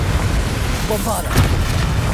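A Bombarda explosion spell in the video game Hogwarts Legacy goes off as a deep, rumbling boom that stays loud through the moment, with a short burst partway in and voices mixed into the game audio.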